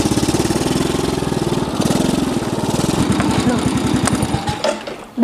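An old motorcycle engine running nearby with a rapid, uneven putter that holds steady for several seconds, then breaks up and drops away near the end, followed by a brief final burst.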